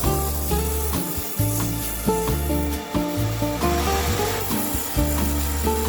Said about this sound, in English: I use a 120 grit sanding belt.